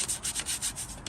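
A toothbrush scrubs parts of a crashed Triumph Daytona 675 motorcycle during a rebuild, producing close, brisk back-and-forth bristle rubs in a steady rhythm of about eight strokes in one second.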